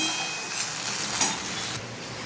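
Vegetables being stirred in a hot frying pan, with a steady close sizzle and scraping for about two seconds and no voices.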